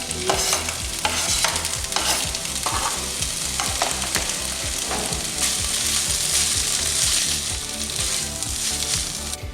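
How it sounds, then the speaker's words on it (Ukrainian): Chopped mushrooms and onion fry in a pan with a steady, loud sizzle, punctuated by frequent scraping and stirring clatters of a utensil against the pan, with no talking. "Грибочки вже нарізані, додаємо до цибулі та обсмажимо їх."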